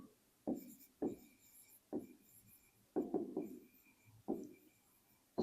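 Writing on a board during a differential equations lesson: separate scratchy strokes and taps in an uneven rhythm, some in quick clusters, close and moderately soft, with no talk.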